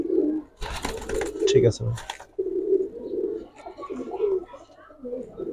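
Pigeons, including Bagha and Silver Musaldom breeds, cooing close by in soft repeated low coos, with someone speaking briefly over them.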